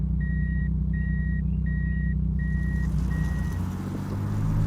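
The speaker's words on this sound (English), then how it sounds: "When you put the car into reverse, the automatic makes this noise." A steady series of five high electronic reversing beeps from an automatic 80-series Toyota Supra making over 1000 horsepower sounds over a low, rumbling engine idle, the last beeps fading softer.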